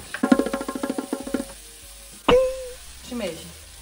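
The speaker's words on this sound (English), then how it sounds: "So, I put onions and garlic and now olive oil because it brings the flavor" Onions and garlic sauté in olive oil in a pan, giving a close, steady sizzle with stirring clatter, followed by a sharp clink and a short tonal ring near the end.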